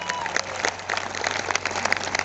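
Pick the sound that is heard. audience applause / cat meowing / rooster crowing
audience applause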